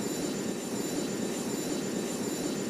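An airplane approaching to land on runway 09 gives a steady, moderately faint jet roar that holds evenly throughout, with no voices over it.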